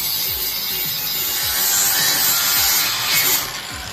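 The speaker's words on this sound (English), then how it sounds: "Now I'm gonna take this flap disc and clean it up." A flap disc on an angle grinder rasps against a car subframe in a continuous, close, harsh grinding, with a slight dip in intensity toward the end.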